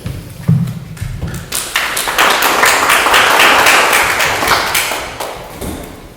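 Audience applause at a 2021 Zebulon candidates forum swells after a few opening thumps, builds into sustained loud clapping through the middle, then tapers slightly near the end.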